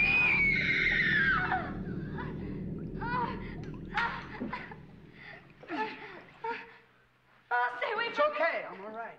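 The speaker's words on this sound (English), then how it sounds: "Now, prepare to scream." A scene from the horror comedy film Zombie High opens with a loud, high, falling scream, followed by scattered speech and short vocal outbursts against a muffled background.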